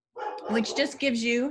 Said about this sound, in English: something exciting is happening on my street if you hear my dog barking right now